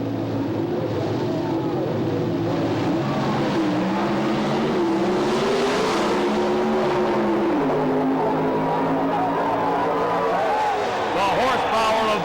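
Pro Stock drag racing cars roar through a 1988 NHRA final round, a sustained loud engine drone with shifting pitch lasting throughout, under continuous commentary.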